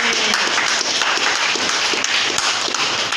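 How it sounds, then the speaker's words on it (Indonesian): A crowd claps and applauds at a welcoming and farewell ceremony for a school team, a dense, steady patter of many hands that stays loud and even from start to finish. "Tepuk tangan Boy Bonani."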